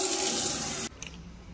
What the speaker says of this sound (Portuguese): Vamos ver se tem água.